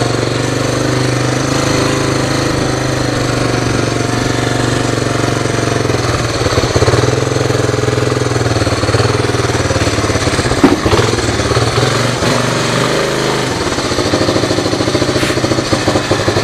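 A 1986 Honda Big Red three-wheeled ATV engine runs steadily up close, a loud, rough thumping drone with slight shifts in pace as it is ridden, and no talk over it.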